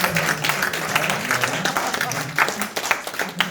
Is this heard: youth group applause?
yes